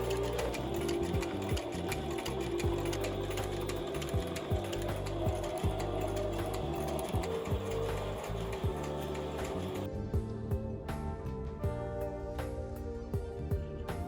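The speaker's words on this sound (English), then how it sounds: "I love using the sewing machine." A sewing machine stitches leather for goods made from footballs. Its motor chugs in a fast, steady, mechanical rhythm, loud and close, and the whirring texture thins slightly in the last few seconds, with no voices.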